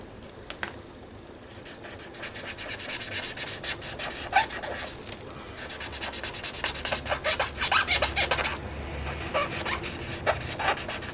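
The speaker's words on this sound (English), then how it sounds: "just give it a bit of a rub in" Steady dry rubbing and rasping as medium is worked into a mixed media artwork, a continuous close scraping texture with brief pauses and varying strokes, no voices.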